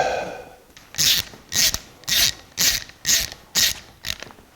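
Metal-on-metal ratcheting from a bolt being fitted to hold the cam gear on a 1949 Chevrolet gasser engine, six or seven crisp evenly spaced clicks, close and loud, with no talk.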